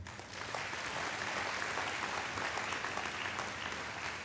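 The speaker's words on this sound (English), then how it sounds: "let's give them one more round of applause" Steady, dense applause from a large audience at a high school athletic awards ceremony, filling the whole stretch at an even level with no talk over it.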